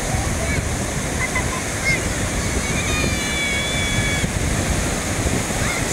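Surf breaking at Praia dos Ingleses beach in Florianópolis on a sunny Saturday afternoon, a steady broad wash of waves filling the whole stretch, with faint voices of children and beachgoers mixed in the background.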